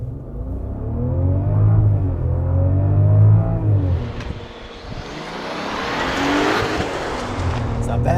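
2022 Range Rover Velar P400 R-Dynamic HSE revving on a brake boost without launch control, then launching hard: a loud held engine drone rising in pitch, followed by tire noise and a surging, wind-filled acceleration.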